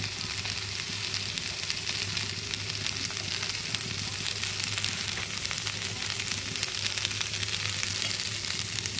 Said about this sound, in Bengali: সুন্দরভাবে নেড়ে দিচ্ছি।